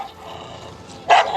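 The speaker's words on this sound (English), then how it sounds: "The dog started barking" A dog gives a single sharp bark near the end after a quiet, low background, close and fairly loud.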